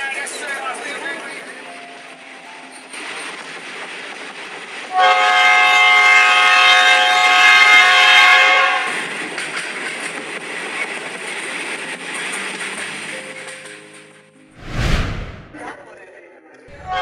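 A train sound effect in an animated ghost story: a steady rolling rumble, a loud sustained horn blast in the middle, then a sharp hissing burst near the end, with narration over it.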